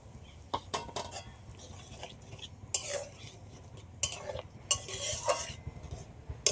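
Cornflour slurry is stirred into a vegetable soup in a pot, with intermittent spoon scrapes and clinks against the metal over a low background bubble, no talking.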